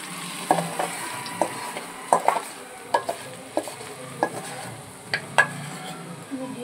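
Egg frying in an oiled pan, with a soft steady sizzle under a string of sharp metallic scrapes and taps from a spatula, spaced irregularly through the clip.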